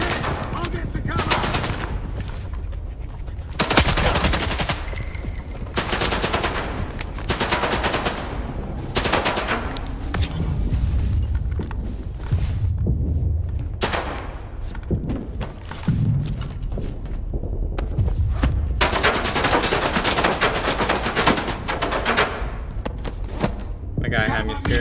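Gunfire from the S.T.A.L.K.E.R. 2 video game: loud bursts of automatic fire and repeated shots in clusters through the clip, with someone talking over parts of it.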